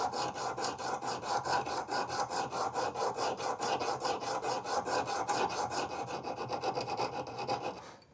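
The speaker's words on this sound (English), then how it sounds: "I can now use that diamond pad as a tiny file." A small diamond-coated stainless steel strip works as a file, scraping in a steady back-and-forth rasp of quick, evenly spaced strokes, close and continuous for about eight seconds before stopping.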